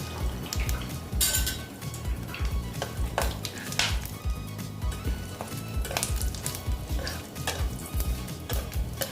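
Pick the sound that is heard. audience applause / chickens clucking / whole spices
whole spices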